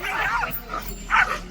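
Street dogs yelp, whimper and bark in short strained bursts while being beaten, mixed with excited human voices over steady background noise.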